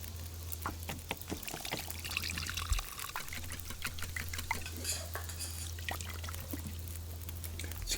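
Water pours and trickles in The Long Dark survival video game, joined by clinking of pots and utensils and a steady low hum underneath, with no talking.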